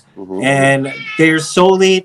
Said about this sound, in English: Yep, sorry, that's my cat.